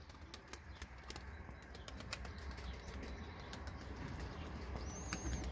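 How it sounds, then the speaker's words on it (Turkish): A pigeon lifts off with a burst of flapping wings, a soft fluttering rush over steady low background noise, with a faint chirp near the end. "diğer çakmaklı kalktı"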